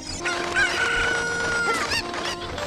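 Video game chickens in Zelda: Ocarina of Time cluck and a rooster crows, overlapping calls that rise and fall steadily close up, with no talking.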